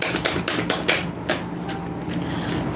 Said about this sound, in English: they just all fell on the floor